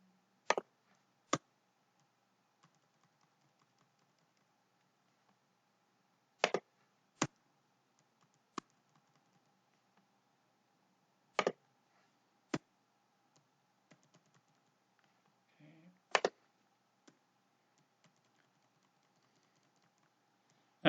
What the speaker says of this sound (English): just using my arrow keys